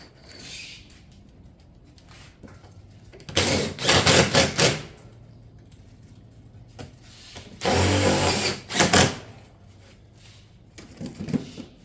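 Power drill driving fasteners into ridge caps along a barrel vault tile roof, two screws per cap, heard as two loud whirring bursts about four seconds apart with a shorter, softer burst near the end and quiet gaps between.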